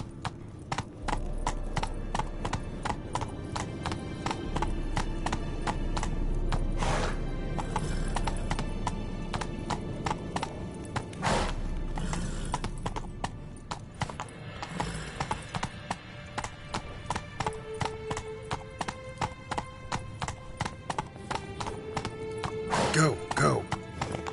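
Hoofbeats of a horse in The Witcher video game, a steady clip-clop of galloping with a neigh partway through, heard close up while someone speaks over it now and then.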